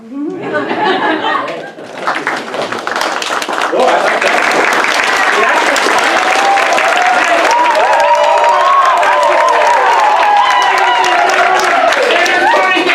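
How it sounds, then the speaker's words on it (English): A large audience at an improv comedy show applauds loudly and continuously, with scattered cheers and a brief voice speaking near the start. "you're going to clap a little louder"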